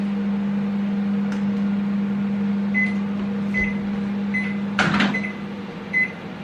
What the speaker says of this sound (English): I'm just going to get my lemon, put it in the microwave.